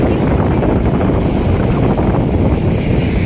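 Strong monsoon wind roars steadily on the footbridge at Manila Baywalk during a typhoon, a dense, loud, unbroken rush buffeting the microphone with no pauses.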